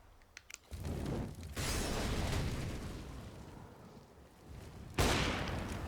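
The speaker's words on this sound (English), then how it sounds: "Zepex with the 1 high explosive grenade" In a Counter-Strike match on the Train map, a high explosive grenade bursts with a sharp blast, followed by a sustained roar and rumble of gunfire and a second loud burst near the end.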